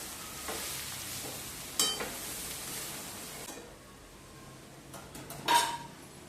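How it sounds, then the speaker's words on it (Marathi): Veg hakka noodles being stirred and tossed in a pan, with a steady soft sizzle under scraping strokes and a couple of sharper clinks of the utensil against the pan, close and fairly quiet, no talking. "आता हे व्यवस्थित असं मिक्स करून घ्यायचं आहे"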